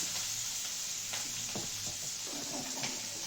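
Okra pieces and eggs fry in a pan with a soft, steady sizzle, broken by occasional stirring scrapes and light clatter, fairly faint and close.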